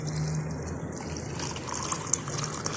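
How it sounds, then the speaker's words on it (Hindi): Chilled milk poured into a glass for cold coffee, giving a steady close liquid pour that lasts a few seconds, with a faint trickle near the end. "तो अब इसके अंदर हम मिल्क डालेंगे"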